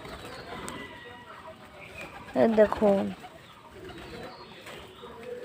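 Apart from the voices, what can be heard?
pigeons cooing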